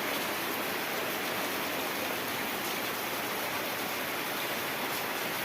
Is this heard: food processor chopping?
no